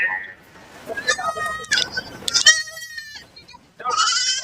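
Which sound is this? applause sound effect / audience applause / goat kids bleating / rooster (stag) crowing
goat kids bleating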